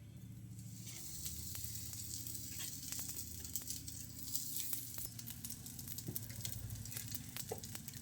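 Rava-coated raw banana slices fry in coconut oil on a tawa, giving a soft, even hiss with scattered light crackles and pops, fairly quiet and close.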